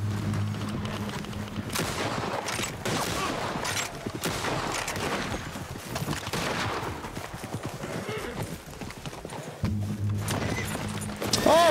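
Galloping hooves and scattered gunfire clatter through a noisy game scene, with a horse's movement rushing under the chaotic shots.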